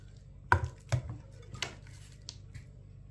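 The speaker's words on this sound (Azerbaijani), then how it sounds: "İndi gətirim, mən bunları doğrayım." Knife chopping ingredients for homemade pizza on a cutting board: a few separate, firm thuds spaced irregularly over a quiet kitchen, fairly close, with no talking.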